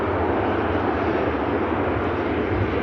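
A Ryanair Boeing 737 at Manchester Airport produces a broad, steady jet engine roar with constant loudness and no voices.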